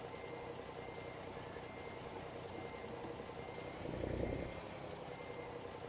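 A truck and trailer maneuver to park in American Truck Simulator with a steady engine rumble and a repeating reverse beep, and a brief hiss and low thump from the brakes near the end.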